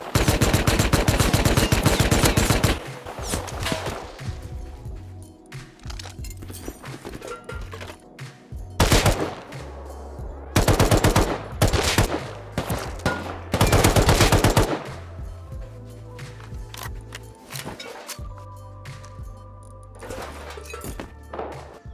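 Gunfire in the video game Rust from campers on a roof, with loud rapid bursts of automatic fire and single heavy shots that come in clusters and sit between quieter gaps.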